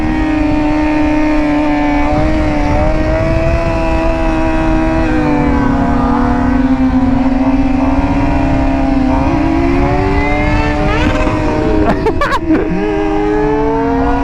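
A Suzuki GSX-R 750 sport motorcycle holds a steady, loud engine note as it rides close by, the pitch dipping and shifting near the end as it passes.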